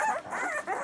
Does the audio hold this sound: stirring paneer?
no